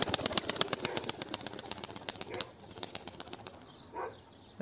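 A tumbler pigeon beats its wings in flight with a fast, rhythmic clatter of flaps, loud and close at first, then thinning to sparser, fainter beats.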